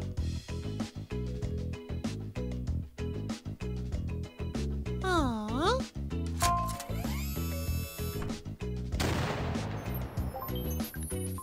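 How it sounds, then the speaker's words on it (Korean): Pirate ship cannons firing in a children's cartoon, several booms and crashes over upbeat music with whooshing and sliding sound effects in between, loud and busy. "우리 오늘 색깔을 배우면서 대포를 쏘지 않을래?"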